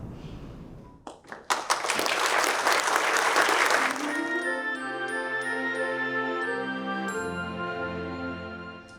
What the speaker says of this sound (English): Thank you for that introduction applause